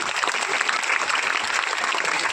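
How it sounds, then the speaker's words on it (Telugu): An audience at a Ramakrishna Seva Samithi youth event in Badvel claps together in a steady, energetic burst of applause, close and full throughout, with no clear speech over it. "గట్టిగా చప్పట్లు కొట్టి అభినందించాల్సిన అవసరం ఉంది"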